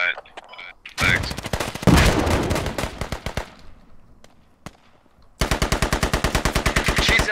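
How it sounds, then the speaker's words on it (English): Automatic gunfire in the video game Squad crackles in short bursts, then a long rapid machine-gun stream near the end, close and loud with quiet gaps between volleys. "I'm getting shot at from random directions here."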